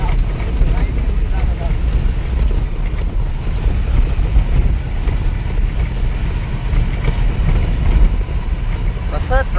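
Congested road traffic with trucks and cars idling and creeping along a jammed road, a steady low engine rumble throughout with talk over it.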